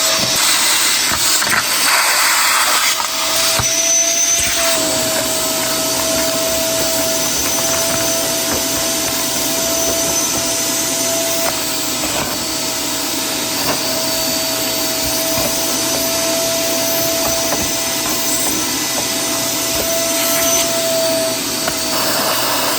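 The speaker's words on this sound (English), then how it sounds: "And then we're just gonna turn on the vacuum." A vacuum cleaner hose sucks debris from the auxiliary radiators of a McLaren 12C, a loud steady hiss and whine that runs without a break, with occasional rattles and thumps of material passing through.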